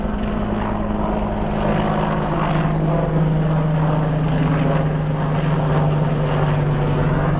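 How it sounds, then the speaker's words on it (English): A helicopter drones steadily overhead, its rotor throbbing and engine humming loudly and continuously without any pause. "Oh, there's the helicopter."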